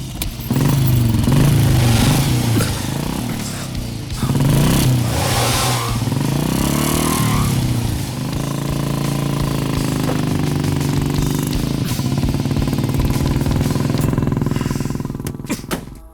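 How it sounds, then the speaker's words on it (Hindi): Motorcycle engine in a dubbed Hindi comedy film scene: loud, close revving with rising and falling pitch as the bike pulls away, then a steadier running drone that fades toward the end. "गाड़ी आगे बढ़ाओ।"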